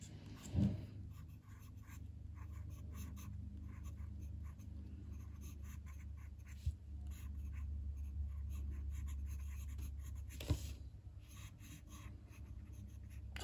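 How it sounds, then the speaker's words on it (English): A Lamy fountain pen nib writing on paper, a faint continuous scratchy glide with soft taps and pauses between strokes, heard close up and alone. "So if we do a right-handed writing sample now with each"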